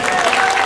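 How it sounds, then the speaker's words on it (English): A protest crowd clapping, a brief dense burst of steady applause without pause. "Can we have a round of applause for Ravi?"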